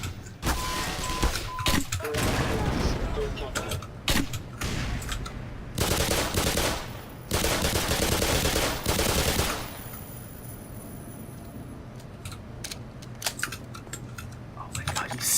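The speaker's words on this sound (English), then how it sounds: "That guy on the machine gun is killing me." Machine gun fire in the video game Black Mesa, with long loud bursts of rapid shots, brief pauses between them and sharp scattered gunshots near the end. A player talks now and then over the gunfire.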